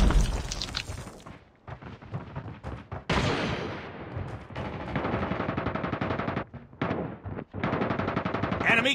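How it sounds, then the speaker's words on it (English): Call of Duty Mobile battle with a Predator missile strike: dense, loud gunfire and explosive booms run nearly throughout, with brief drops in between and rapid bursts toward the end. "Predator missile away."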